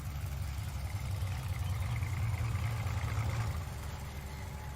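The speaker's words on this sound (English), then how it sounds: "The sounds of the tractors signal to the black-headed gulls and others that it's feeding time." Tractor engine running steadily while mowing meadows, a continuous low rumbling drone that stays close and loud throughout without pause.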